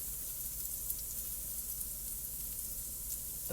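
A T-bone steak sizzles steadily in a hot pan just after being flipped, a constant close hiss of frying fat with small crackles and no voices.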